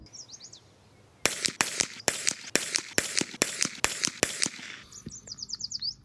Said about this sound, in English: We're going to shoot 10 rounds of 115 grain